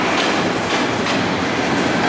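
A Ferromex freight train of empty gondola cars rolls slowly past near Irapuato, a loud steady rumble with faint wheel clatter and a brief high squeal, close by and without voices.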